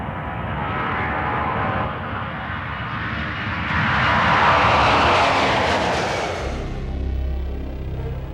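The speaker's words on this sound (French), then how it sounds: "650 mètres cubes d'air par seconde sont aspirés par ce moteur qui éjecte les gaz de combustion à travers la tuyère à plus de 1000 km/h." A turbojet engine roars loudly and steadily, the rushing exhaust swelling in the middle before easing off, with a low rumble at the end and no voices.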